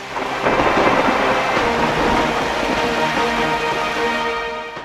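Heavy rain pours down steadily while thunder rumbles loudly and continuously, a close, intense storm with no voices.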